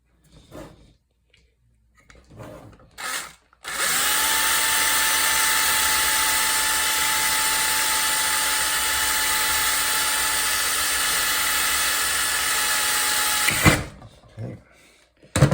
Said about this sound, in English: just going to drill this off camera for convenience